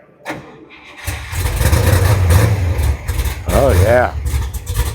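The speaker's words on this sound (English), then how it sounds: "Listen to that nasty little cam in that thing." A 1967 Coronet 440 with a 426 Hemi and an aggressive cam cranks and catches after a second, then settles into a loud, lumpy, loping idle nearby, with a brief spoken exclamation over it.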